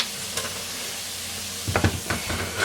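Onions sauté in a skillet for hamburger pie with a constant close sizzle. Scraping stirring strokes join in during the second half, and no voices are heard.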